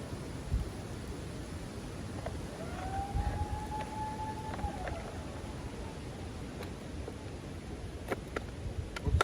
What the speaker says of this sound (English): Must be a weather warning alarm.